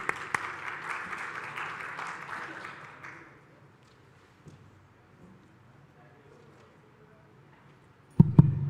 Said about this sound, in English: Let's have a warm round of applause for both of them.